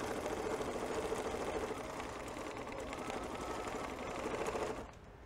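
A home sewing machine stitching steadily while quilting, set to a stitch length of about 2.5, with a continuous close mechanical whir and rapid needle rhythm that stops abruptly near the end.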